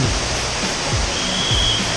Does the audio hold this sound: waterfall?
yes